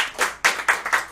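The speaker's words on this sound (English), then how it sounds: "Can we get a round of applause for Greg fucking Miller?" A few people clap in a small room, about four distinct rounds of hand claps in quick bursts, close and moderately loud, not a large crowd.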